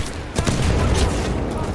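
Gunfire rattles in Titanfall 2 on hard difficulty, a loud, steady stream of shots with a sharper burst near the start, filling the brief moment of combat.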